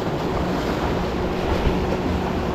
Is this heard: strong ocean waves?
yes